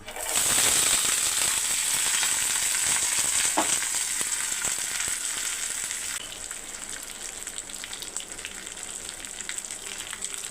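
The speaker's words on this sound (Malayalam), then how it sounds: "ഇനി നമുക്ക് കപ്പയ്ക്ക കഷ്ണങ്ങളാക്കിയത് ഇട്ട് കൊടുക്കുക" Chopped tapioca pieces drop into a pan of hot oil with mustard seeds and curry leaves, setting off a loud, dense sizzle that crackles steadily and eases slightly after several seconds.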